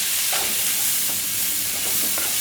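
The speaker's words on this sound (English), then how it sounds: "Give that a stir." A spoon stirs French chicken casserole in a buttery skillet, scraping softly over a continuous close sizzle, with a few distinct strokes standing out against the frying hiss.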